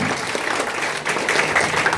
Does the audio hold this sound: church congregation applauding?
yes